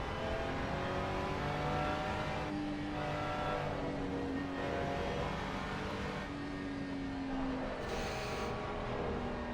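GT3 race cars head out on a warm-up lap, engines droning and revving together in a steady roar with rising and falling pitch as they pass, continuous and fairly loud, with no speech.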